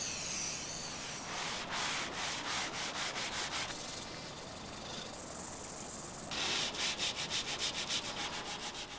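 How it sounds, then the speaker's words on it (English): Sandpaper rubs back and forth by hand over 1960s Lane Acclaim wood veneer furniture in quick rhythmic strokes, an even scratchy hiss with no talking. "we've decided to sand these pieces entirely by hand"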